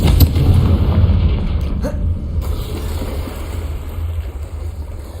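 A Confringo fire spell explodes in the video game Hogwarts Legacy, a loud booming blast with a low rumble that lingers across the whole stretch at steady volume.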